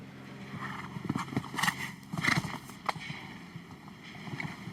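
A show jumping horse moves across the arena at the 2019 Nations Cup in La Baule, its hooves thudding in an uneven rhythm over a soft, murmuring outdoor background.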